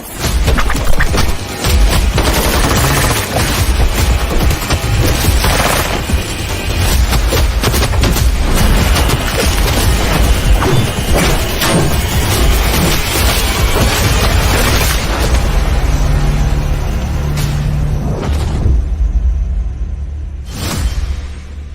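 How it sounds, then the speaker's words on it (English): Action-film battle mix of loud explosions, gunfire bursts and fight impacts, dense and continuous with repeated sharp crashes and deep booms throughout, no speech. "Explosions, bullets flying, elbows hitting, punching, kicking."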